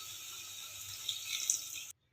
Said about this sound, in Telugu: దీనిలోకి ఒక చిన్న గ్లాసు వాటర్ అయితే పోసుకుందాం.